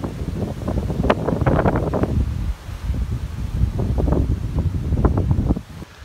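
Wind buffeting a microphone on a small hill outdoors, loud gusty rumbling in two long surges with a short lull between, no talking.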